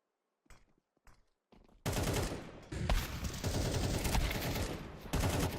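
Rapid gunfire in a Counter-Strike esports grand final match, a few quick isolated shots giving way to dense, continuous automatic fire and explosions that stay loud to the end.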